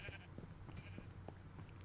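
Sheep bleat in Minecraft, quiet, soft synthetic baas amid low background game noise, with a couple of short calls over under two seconds.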